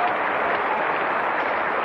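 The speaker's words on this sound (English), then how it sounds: "the team all clapping" A cricket ground crowd at a Pakistan match applauding, with dense, steady clapping from many hands spread evenly across a short stretch, fairly loud and a little distant.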